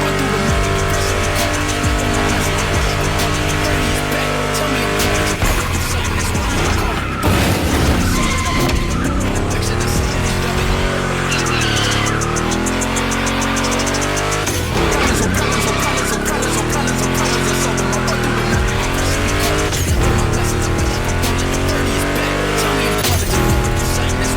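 Ford Mustang GT muscle car racing in The Crew Motorfest, its engine roaring loud and continuous with rising and falling revs through turns, tires squealing and skidding, backed by steady game music throughout.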